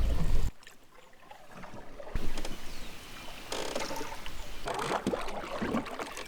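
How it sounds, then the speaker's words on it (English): Canoe gliding across open water toward an island, with close paddle splashes and trickling water, soft rushing and occasional knocks against the hull. "Now I just have to find a place to land the canoe."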